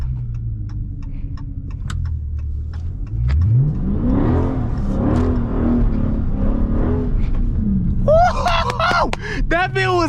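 A Dodge Scat Pack car drifting through turns on a rain-soaked road, its engine rumbling steadily and then revving up as it accelerates through the corner, with people talking over it inside the car.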